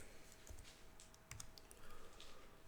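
Quiet typing on a computer keyboard during a Linux Mint setup, a few sparse soft key clicks heard faintly against a low background hum.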